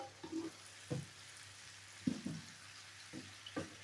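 Sliced mushrooms sizzle faintly in a pan as their moisture cooks off. Quiet crackling runs throughout, with a few soft bumps and scrapes spaced across the stretch.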